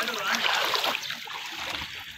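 Water splashes and sloshes on a flooded street during rain in Qasimabad, Hyderabad, a continuous close, rushing wash with voices talking over it.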